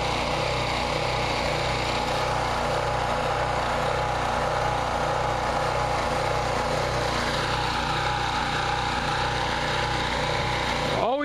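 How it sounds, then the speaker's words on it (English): A small engine running steadily with a pulsing, surging drone as its carburetor bowl runs dry, loud and continuous throughout with no talk over it. "now it's going to do its surging because it's going to just run out any minute now"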